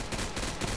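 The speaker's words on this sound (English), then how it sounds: "M16, it'll do the job." M16 rifle fire in Call of Duty Black Ops 3 custom zombies, a short, dense burst of rapid shots packed tightly together.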